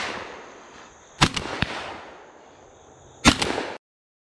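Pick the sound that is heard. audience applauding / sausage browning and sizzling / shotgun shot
shotgun shot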